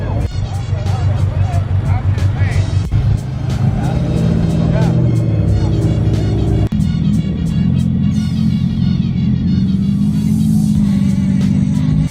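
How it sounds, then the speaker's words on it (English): Cars idling and revving at a large street car meet, engines rumbling loudly and steadily with a sharp rev building near the end, while a voice talks over the noise. "This is probably the biggest car meet of the year"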